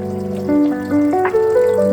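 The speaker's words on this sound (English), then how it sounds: "So what I'm going to do is fill up the pot." Tap water runs into a cooking pot being filled for noodles in a home kitchen, a steady close pour whose tone rises in steps as the pot fills, with no talking.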